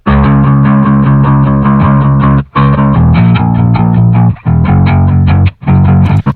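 Two bass guitars, including a Fender P-Bass, played through an amp simulator, loud and slightly gritty, several phrases separated by short gaps, with no talking.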